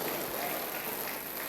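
A church congregation at a shrine consecration festival in Pedaparimi applauds together, a steady dense wash of clapping that holds evenly loud from start to finish.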